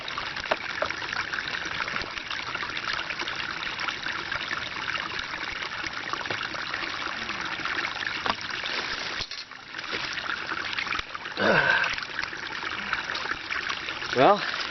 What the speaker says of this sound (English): Well, I wish there was flowing water out here all the time right next to my RV.